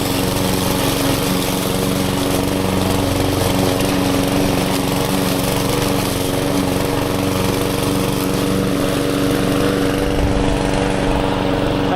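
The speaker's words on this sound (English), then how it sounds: "here I can mow whenever I want. Even in the middle of the night." A lawn mower runs steadily and loud through the whole stretch, a constant close engine drone with no pauses, out on a lawn in a quiet rural spot with distant neighbours.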